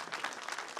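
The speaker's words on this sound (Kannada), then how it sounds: "ಜೋರಾದ ಚಪ್ಪಾಳೆ" Applause from a gathering of well-wishers and media guests at a Kannada film event, dense and steady through the short moment, fairly quiet and without talk.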